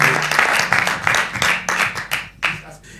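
A church congregation applauding, a dense burst of many hands clapping that swells and then thins out into scattered claps, fairly close and loud, with voices mixed in.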